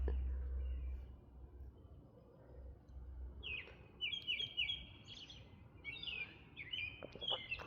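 Several birds chirp in rapid, overlapping bursts that grow busier toward the end, set against a soft low hum.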